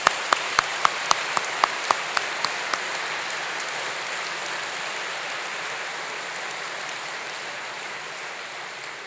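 Graduates and guests clap together at a university graduation ceremony, a few sharp, close claps standing out at the start before blending into a broad, sustained sheet of applause.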